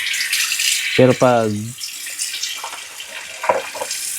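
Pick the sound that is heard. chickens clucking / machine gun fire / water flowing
water flowing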